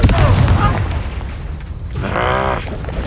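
A Confringo blasting spell goes off in Hogwarts Legacy, a loud close boom with a bursting crack that fades out before a second blast follows, with a voice shouting over the action.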